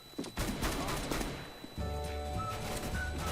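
Pistol shots in CS:GO, a quick cluster of sharp gunshots in the first second or so, followed by lingering game noise and a faint voice.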